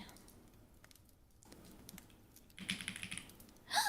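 Keys on a computer keyboard clatter nearby in irregular bursts of soft taps, quiet at first and then louder and denser toward the end.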